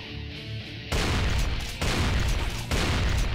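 Sustained heavy gunfire in Brutal Doom V19 as the shoot button is held down, a loud dense continuous barrage with brief shifts in intensity.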